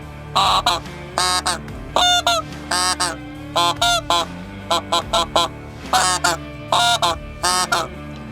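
A bean goose call blown in quick bursts imitates barnacle goose and greylag goose honks, short nasal honks in clusters with brief pauses, loud and close, no voices.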